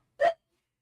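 A single short, sharp sneeze bursts out on its own, close and fairly loud, then silence follows.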